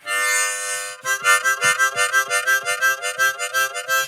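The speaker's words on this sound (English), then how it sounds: "I'm just happen to be taking the breaths through the harmonica, so it makes a noise." A sustained harmonica chord gives way to quick, rhythmic in-and-out breaths through the harmonica, each puff sounding a reedy chord, close and steady.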